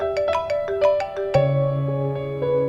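A melodic phone ringtone plays for an incoming call in a TV drama scene, repeating bright electronic tones with a sustained low note entering midway, loud and alone without talk.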